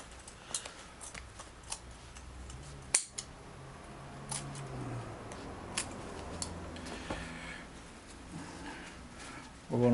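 Scissors cut a chair's upholstery cover in a series of close, crisp snips and rustling fabric, with a sharp click partway through. A person speaks at times over the cutting.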